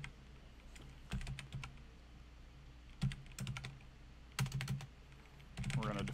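C code being typed on a computer keyboard in short bursts of rapid key clicks separated by pauses, close and distinct, with no talk over it.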